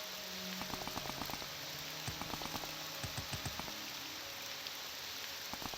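Steady rain hisses across the whole stretch in the Morrowind Tamriel Rebuilt game, a dense wash of falling water with light scattered taps and faint tonal game sounds mixed beneath.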